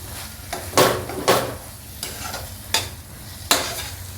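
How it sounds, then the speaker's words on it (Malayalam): Cooked tomatoes for chicken biryani being mashed in a pan, with five or six distinct scraping, squelching strokes spaced irregularly over a faint sizzle, close and fairly loud. "ഇനി നമുക്ക് ഈ തക്കാളി ഒന്ന് ഉടച്ചെടുക്കാം."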